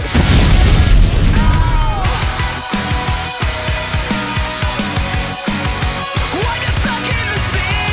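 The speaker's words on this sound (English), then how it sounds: "let's go ahead and cue the explosion" An explosion sound effect with a heavy booming burst, followed by a dense, loud rumble and a series of crashing, debris-like hits that continue to the end.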